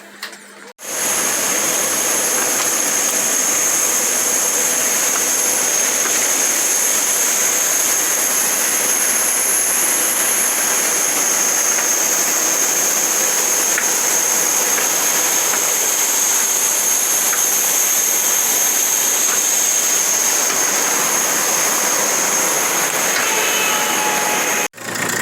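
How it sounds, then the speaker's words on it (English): Steady, loud jet engine roar heard from inside the cabin of a Boeing 787-900 Dreamliner, a constant broadband rush with a faint high whine running unchanged for the whole stretch, with no talking. "We're still live inside the Dreamliner 950."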